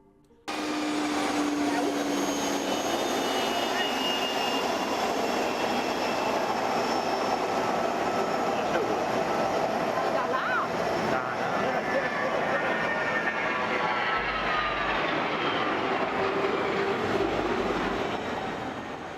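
An Austrian Airlines Airbus A320 makes a high-speed low pass over runway 08 at Innsbruck Airport, its jet roar loud and sustained for the whole pass, then slowly fading as it moves away.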